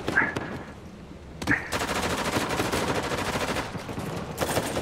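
Gunfire in an Uncharted 4 multiplayer match: a couple of single shots open, then sustained rapid automatic fire rattles on for several seconds, loud and close.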